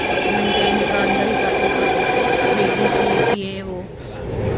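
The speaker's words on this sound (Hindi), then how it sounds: "लो जी, आ गई है मेट्रो।" A Delhi Metro train pulls into the station with a loud, steady rumble and whine that cuts off abruptly near the end, leaving quieter platform ambience.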